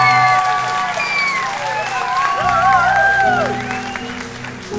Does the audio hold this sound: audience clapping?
yes